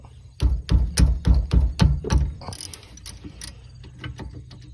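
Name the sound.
ratchet with 14 mm socket loosening Nissan Altima brake caliper bolt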